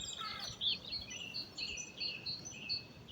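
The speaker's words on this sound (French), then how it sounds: "écoutez le chant des oiseaux matinal qui s'adresse au divin Créateur" Morning birdsong outdoors: faint, high chirps and short tweeting phrases repeat every half second or so over a soft, steady background hiss.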